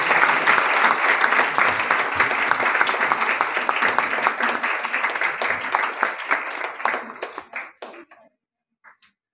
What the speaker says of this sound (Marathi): सगळ्यांनी टाळ्या वाजवायच्या आहे.